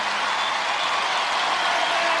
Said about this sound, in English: And brother Brendan rightly applauds the effort